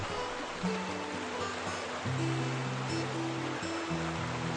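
A small stream flowing through a desert side canyon of the Grand Canyon, a steady broadband rush of water running continuously and fairly close, with no voices.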